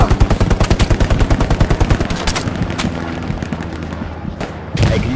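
Gunfire in the World War II shooter Hell Let Loose: a loud, close burst of rapid automatic fire for about two seconds, then distant shots and rumbling booms, with another heavy blast near the end.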